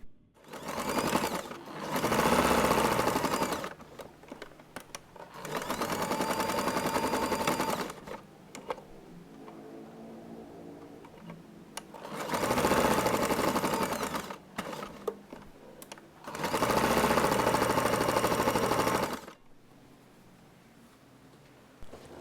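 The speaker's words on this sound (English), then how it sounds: "Sew all around, leaving a gap in the middle." A sewing machine runs in four long, steady bursts, stitching fabric for a round pouch with a hidden pocket, each burst a loud, close, rapid mechanical whirr separated by short quiet pauses.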